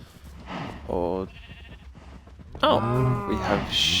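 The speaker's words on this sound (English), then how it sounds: "oh, we have sheep." Sheep bleating in the Minecraft-style game One Block Skyblock, two wavering baa calls a moment apart, the second louder and longer, with someone talking over and between them.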